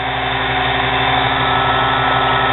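A small 110-volt nano lathe motor runs at a constant speed, giving a steady, even whirring hum with a buzzy tone and no change in pitch or level throughout.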